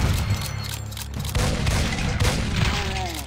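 An enemy minigun fires in the video game Doom, on a Plutonia map: a dense, rapid burst of booming shots that rolls on without pause, loud and close, with no talk over it.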